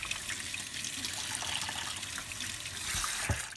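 3D-printed nylon parts are rinsed under a running tap, giving a close, steady splashing flow of water with a short louder splash just before the end.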